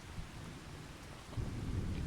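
Rain and rumbling thunder in Farming Simulator 25 during a rice harvest, a steady wash of rainfall with a deep roll of thunder swelling louder in the second half, no voices.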